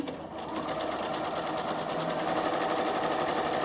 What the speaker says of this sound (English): So you do row upon row of stitching.